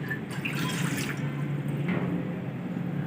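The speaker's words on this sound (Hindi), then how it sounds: "2 गिलास पानी ऐड करेंगे।" Water from a glass pours into a wok on the stove to start jaggery syrup for flax seed laddu, a soft steady splashing for about a second, then a quieter trickle.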